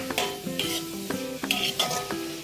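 Masala for a quail egg roast being stirred as it fries in a pan: a utensil scrapes and taps the pan in a steady rhythm over a soft sizzle, close and clear with no talk.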